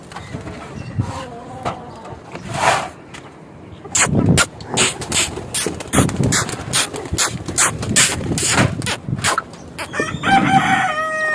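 A rooster crows loudly nearby near the end, after a stretch of clucking, fluttering wings and sharp knocks from birds moving about.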